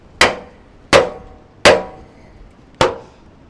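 Four loud, sharp hammer blows on a timber floor joist joint, a mortise and tenon or dovetail connection being driven snug, evenly spaced roughly every three-quarters of a second with brief woody ringing after each strike and no talk.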